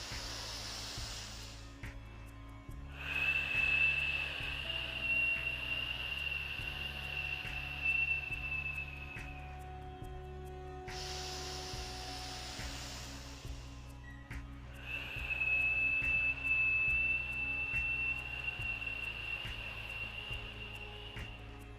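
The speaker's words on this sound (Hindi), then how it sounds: "छोड़ते समय अपने मुंह का पाइप बना लेंगे और जैसे हम सीटी बजाते हैं" Two long, steady breaths are pushed out through pursed lips during a pranayama breathing exercise, each a soft airy hiss with a faint whistle-like edge, heard over a constant low hum with no speech.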